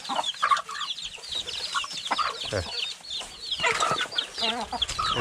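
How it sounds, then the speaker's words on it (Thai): Backyard chickens kept at home cluck, chirp and squawk busily, close and lively, as they are fed, with many overlapping calls and a faint rooster crow among them. "มาให้อาหารไก่นะครับ"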